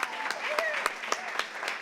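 Audience applause at a graduation evening for the Mayor's Neighborhood University, moderate clapping with a few sharp claps and some cheering voices in a room.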